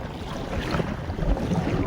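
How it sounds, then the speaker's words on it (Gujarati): Sea waves break in shallow water on a windy coast during a fishing trip, a steady close rushing wash of surf and wind with no talking. "પાણી ઓછું છે ને મોજો ફાટે છે"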